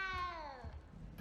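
A single cat in Hogwarts Legacy gives one short, clear, descending meow, close and alone over faint background.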